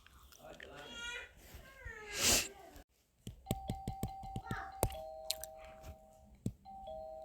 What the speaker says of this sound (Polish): Kto tak o późnej godzinie tak dużo razy dzwoni?